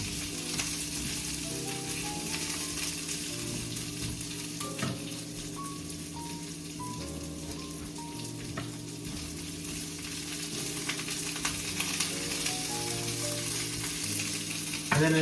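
Fennel frying in oil with garlic and parsley, a steady close sizzle that runs without pause, with light stirring clinks and background music.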